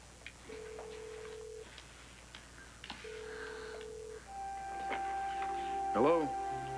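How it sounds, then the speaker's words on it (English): A phone line's ringback tone sounds in long, steady beeps, followed by a voice-like chirp at the end, with faint background noise throughout. "Okay, yeah, it's ringing."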